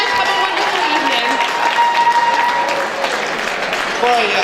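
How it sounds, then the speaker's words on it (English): Loud, sustained audience applause fills a hall at a Nowruz celebration, dense clapping from a crowd continuing steadily throughout. "please give me a round of applause for Michael Parsa, Valerie"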